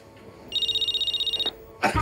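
A telephone rings in a Turkish sitcom scene, a steady electronic trill pulsing rapidly for about a second, then cut off before a sudden burst of noise.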